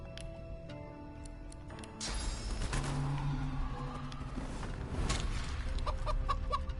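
A chicken clucks in the fantasy role-playing game Divinity Original Sin 2 after a sleeping character is transformed into one, with repeated clucks over a busy game ambience and music-like tones, and no speech.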